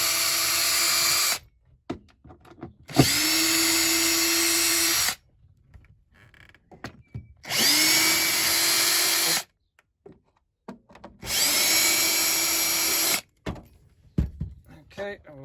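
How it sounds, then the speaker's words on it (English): A power screwdriver whirs in long high-pitched bursts of about two seconds each, backing screws out of a caravan cover, separated by short pauses with small clicks and handling knocks. "taking my screwdriver, let's take the 4 screws"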